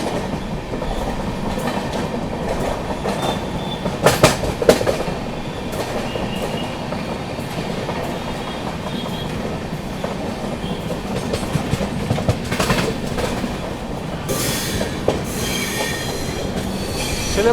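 The 12615 Grand Trunk Express rolls into Nellore station with a loud, continuous rumble, repeated clickety-clack over the joints and squealing wheels, plus a few sharp bangs and a brighter hiss near the end.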